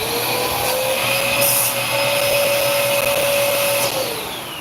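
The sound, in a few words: vacuum cleaner running, used to clean paint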